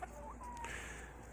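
Backyard chickens give a couple of brief, fairly close clucks over a steady low outdoor hum, with no talking.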